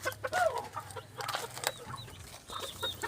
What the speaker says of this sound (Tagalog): Ito yung mga alaga nating manok.